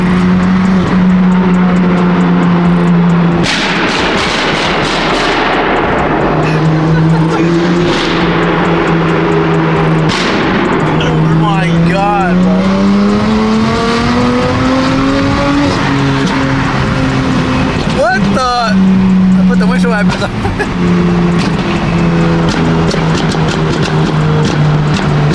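A loud, close Lamborghini engine roars and revs repeatedly, pitch rising and falling with gear changes, sustained throughout with occasional sharp pops.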